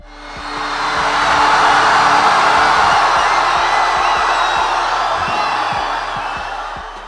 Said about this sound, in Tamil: கல்லூரியே அதிருமளவிற்கு கூச்சலிட்டு ஆரவாரம் செய்தனர் மாணவிகள்